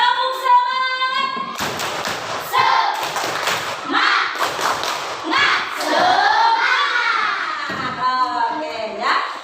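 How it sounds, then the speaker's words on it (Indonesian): A classroom of students claps and chants the 'tepuk semangat' rhythm, with sharp hand claps mixed into loud group chanting voices, close and energetic throughout. "Coba kita tepuk semangat dulu."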